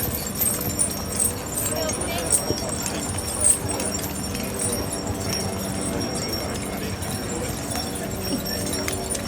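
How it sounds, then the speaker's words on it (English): A Dales Cross shire horse walks with steady clip-clopping hooves under ongoing speech at a steam fair, the footfalls moderately close over outdoor background noise. "He's followed by another single horse."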